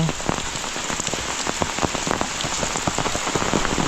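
Heavy monsoon rain pours in a Konkan village during a windstorm, a dense, steady hiss of drops pattering on surfaces close by, with no voices.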